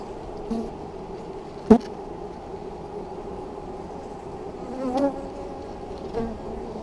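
Honey bees buzz around an opened backyard hive, a close steady droning hum with a few louder passes as individual bees fly near, no voices.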